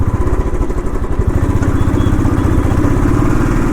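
An old Royal Enfield Thunderbird 350 motorcycle engine running steadily, a loud, close, continuous thumping idle with a rapid even pulse and slight mechanical clatter, heard alone.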